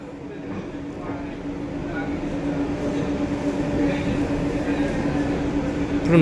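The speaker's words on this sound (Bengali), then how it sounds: "এটা যশোর রোড মেট্রো স্টেশনে আমাদের ট্রেন প্রবেশ করেছে" A Yellow Line metro train rumbles steadily and grows gradually louder as it rolls into Jessore Road station, with clattering under the continuous roar.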